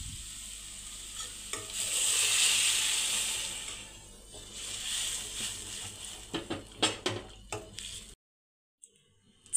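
Green peas tossed into fried masala and oil for a tiffin-style pea curry, hissing and sizzling loudly with steady stirring, then a run of sharp spoon scrapes and taps before a sudden cut to near silence.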